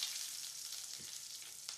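Dry red chillies frying in a pan for mutton sambar give a soft, continuous crackling sizzle, faint and close, with a brief stir or clink partway through. There is no talking.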